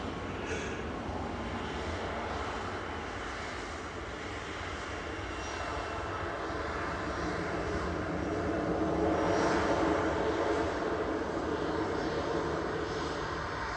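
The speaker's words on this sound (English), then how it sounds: "Ryanair from Barcelona has just touched down." A Ryanair airliner arriving from Barcelona touches down at Manchester Airport, its broad engine roar steady at a moderate distance and swelling slightly toward the end, with no voices over it.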